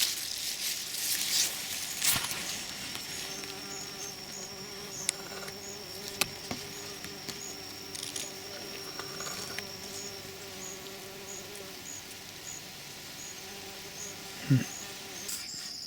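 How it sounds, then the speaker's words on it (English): Bees buzz faintly around pollinating wild rice at a marshy permaculture camp, a thin steady hum with scattered clicks, rustles and brief knocks nearby, a soft outdoor background throughout. "Look at the bees are still pollinating the wild rice."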